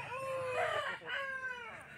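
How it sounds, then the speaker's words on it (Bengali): A rooster at a village poultry market crows once, fairly close and clear, in a drawn-out two-part call over a faint background murmur, with no one speaking. "নেক্সট যে মোরগটা দেখছেন, খুব সুন্দর গায়ের রং"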